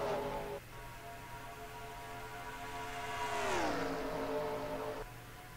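Race cars accelerate at Indianapolis in a Firestone 400 race. A loud, droning engine whine climbs, then sweeps down in pitch as a car passes close by and the roar continues into the distance.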